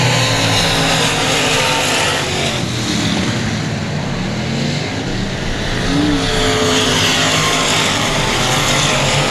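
Race cars lapping at Cotton Bowl Speedway: a dense, continuous roar of several engines at full throttle, loud and unbroken, with cars sweeping past.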